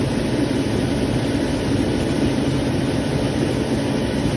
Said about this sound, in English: compressor just turned off, and here we go